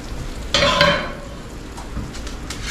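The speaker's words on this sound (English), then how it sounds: "we've got us some good old asparagus sauteed right here on this little flat iron" Asparagus sautéing on a small flat iron gives a brief burst of sizzle and frying hiss, then settles to a low steady crackle with faint clinks.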